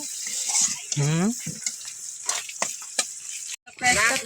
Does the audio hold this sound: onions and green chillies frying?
yes